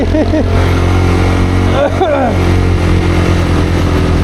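A Royal Enfield motorcycle climbing a steep hill road in gear on the way from Boga Lake to Keokradong, its engine droning steadily and close throughout, with brief voices and a whistling sound partly over it.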